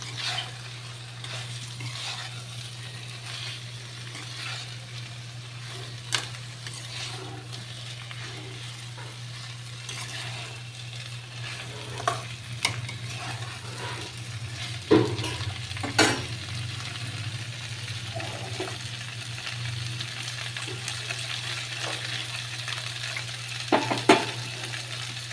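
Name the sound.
cauliflower and potatoes frying and stirred in a pan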